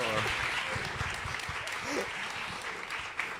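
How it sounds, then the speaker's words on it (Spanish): Audience clapping at a film festival in Mexico, a steady dense wash of applause that carries through the whole moment, with a voice speaking briefly over it. "un aplauso por favor"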